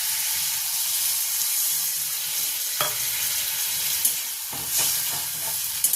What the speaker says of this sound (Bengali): এবার আমি কিন্তু জল দিয়ে দিচ্ছি